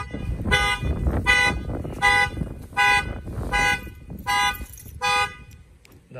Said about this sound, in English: That fires off the alarm.